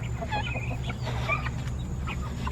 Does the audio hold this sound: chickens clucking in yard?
yes